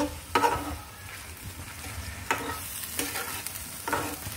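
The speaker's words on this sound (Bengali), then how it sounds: "এই যে এভাবে আমি একটু সুন্দর করে কষিয়ে নিচ্ছি।" Small puti fish sauté with salt and turmeric in hot oil. A quiet sizzle runs underneath, broken by several sharp scrapes of the spatula spaced about a second apart.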